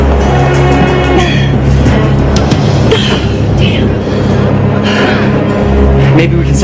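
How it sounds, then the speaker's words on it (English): A loud, sustained mechanical roar with grinding and screeching, like a train under emergency braking, with raised voices mixed in throughout. "Emergency brake."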